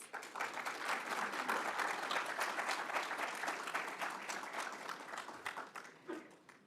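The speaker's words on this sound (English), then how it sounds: "Let's give a huge round of applause to our graduates." Sustained applause from a ceremony audience for graduates of a metro transit operations graduation and promotion event, dense and steady for about six seconds before gradually thinning out.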